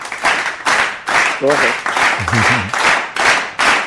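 A group applauds for Dino during a live broadcast, a dense run of rhythmic clapping in repeated bursts, close and loud, with a short spoken remark and a faint vocal sound mixed in.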